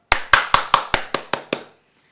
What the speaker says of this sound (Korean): 박수 한번 치고 마치겠습니다.